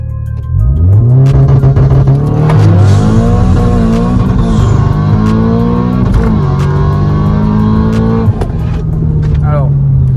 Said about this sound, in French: On va faire un petit test draghi et on va voir les performances de la voiture.